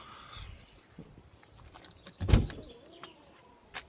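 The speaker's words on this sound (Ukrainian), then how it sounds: "Бачите, всі двері автоматично відкриваються і закриваються." Tesla Model X 2023 doors opening and closing on their own, a soft motorized whir with faint clicks and one firmer thud midway, quiet and close.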